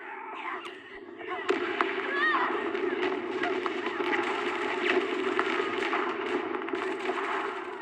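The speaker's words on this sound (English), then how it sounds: "The gunfire and voices gradually fade away and everything returns to silence." Rapid gunfire cracks and bursts in a Zenless Zone Zero battle, with shouted voices and constant noise underneath, staying dense and busy throughout.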